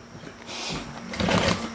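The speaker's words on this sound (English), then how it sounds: "I'll sew it at the seam allowance" A sewing machine stitches the Lyra bag at the seam allowance, with a brief whirring run of the motor that swells louder near the end, close up and without talk.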